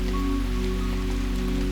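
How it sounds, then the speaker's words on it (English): Steady rain falls outside in a constant soft hiss and patter, with a low continuous hum beneath, and no voices. "as the rain continues to fall outside"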